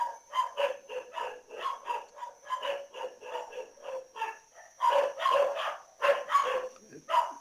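Several dogs barking in rapid, repeated bursts across the whole stretch, fairly close and loud, with a few yips mixed in and heavier clustered barks near the end.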